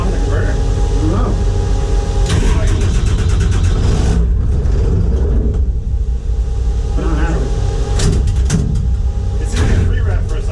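The engine of a Cummins diesel drag truck rumbles loudly up close, with rises and falls in revs and a steady heavy drone throughout, while people talk over it.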